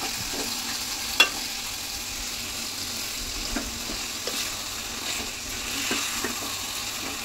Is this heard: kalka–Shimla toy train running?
no